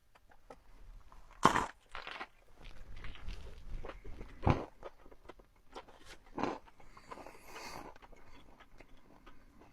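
Crunchy bites into a Wendy's burger stuffed with Takis Fuego chips, several sharp close crunches and chewing sounds spaced across the quiet stretch, with no talking.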